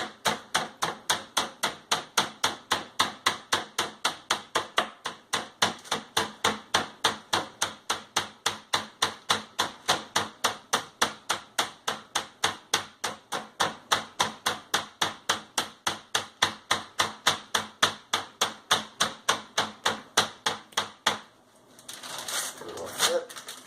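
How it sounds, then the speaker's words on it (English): A hammer pounds meat sealed in a bag to tenderize it, dozens of evenly spaced, sharp thuds in a fast steady rhythm that stop near the end, giving way to rustling of the bag. "Okay, so now we're tenderizing the meat. It's better to use the size of the hammer."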